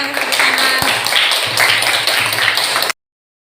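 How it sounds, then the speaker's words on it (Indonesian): A classroom of students claps together in dense, steady applause for about three seconds, then it stops abruptly. "Silakan tepuk tangan"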